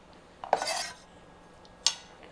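Two distinct kitchen cuts as a knife slices small carrots into strips on a board: a longer, louder scraping stroke, a pause, then a short sharp chop, close and alone with no talk.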